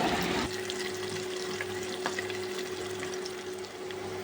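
Whole spices such as cinnamon frying in a pan for beef nihari, a steady close sizzle with light stirring scrapes throughout, no talking.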